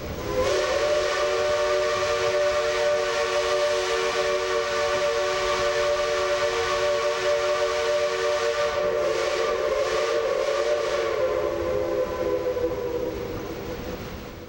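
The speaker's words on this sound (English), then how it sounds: "There is nothing more alluring than the distant sound of a train whistle." A long, sustained steam train whistle blows loud and steady for many seconds in the mountains, its chord shifting slightly near the end before it starts to fade.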